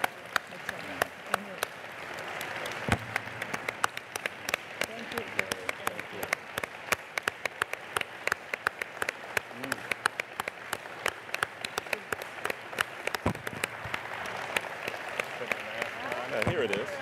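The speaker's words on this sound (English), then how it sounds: "let's have a huge round of applause" An audience breaks into a long, hearty round of applause, a dense crackle of many hands with scattered sharper claps, fairly distant and steady throughout, with some voices murmuring beneath it.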